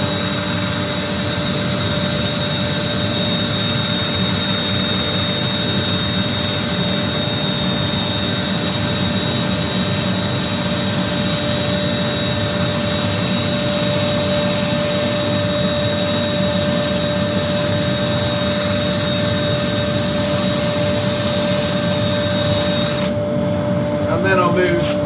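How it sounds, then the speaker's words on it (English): A power drill with a rotary sanding attachment and 120-grit abrasive cloth sands a turned cherry root ball hollow form on a lathe, producing a loud, continuous whirring drone that runs steadily throughout, with no speech. "I'll do that on the rotary set, on the power drill."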